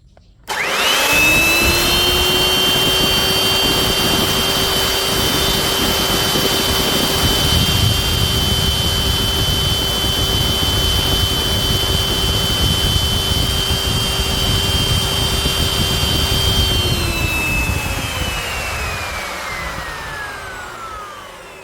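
A Ronix 5302 10-inch 2200-watt miter saw runs free at full speed: the motor spins up to a loud, steady high-pitched whine with a roaring blade, holds for about fifteen seconds, then winds down as it is released.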